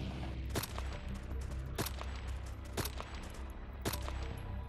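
Gunfire in the survival video game DayZ Epoch: four sharp, loud shots spaced irregularly about a second apart over a steady background rumble, no talk.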